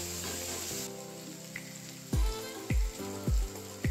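Garlic pieces and cumin frying in hot oil for a cluster bean stir-fry: a steady close sizzle that thins out partway, followed by several sharp knocks of a utensil against the pan, with a faint musical tone underneath.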